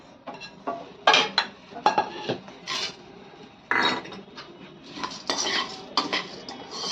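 Pumpkin and sunflower seeds being dry-roasted and stirred in a kadhai, heard as repeated scraping and clattering bursts of a spatula against the metal pan, close and fairly loud, with no talking.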